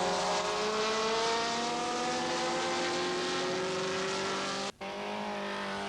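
Classic sports cars, including a Lotus Elite and Alfa Romeo, racing at a historic car race; a steady engine drone passes loud and close, with a brief dip near the end, no talk.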